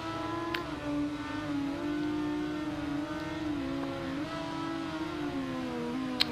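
A Honda superbike races in the Ride 2 motorcycle video game, its engine holding a steady high drone with gentle pitch shifts through gears and corners, loud and continuous with no voices over it.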